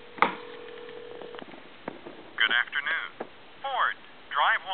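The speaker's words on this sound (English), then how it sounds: "we're going to call, say, a time and temp number" Princess telephone handset carrying a call to a time and temperature line, with brief clicks and tones at the start, then a thin, band-limited recorded announcement voice playing through the phone.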